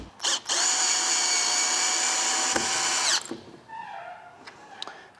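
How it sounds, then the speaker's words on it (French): A cordless screwdriver drives a large screw into an E-Twow electric scooter's handlebar folding mechanism, whining steadily at close range for about three seconds before stopping, followed by a few faint clicks and handling noises. "on revient visser les deux grosses vis à l'aide d'une visseuse"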